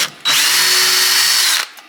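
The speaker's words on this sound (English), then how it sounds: "Pre-drill." A power drill pre-drilling wood for an Adirondack chair whirs loudly for about a second and a half at a steady pitch, starting abruptly and stopping cleanly, close by.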